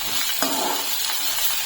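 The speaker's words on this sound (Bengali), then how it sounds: "পেঁয়াজ আর রসুনটাকে হালকা একটু নেড়ে নেব।" Chopped garlic and onion fry in a pan as they are stirred, a steady close hiss of oil sizzle with light scraping and clinks from the spoon.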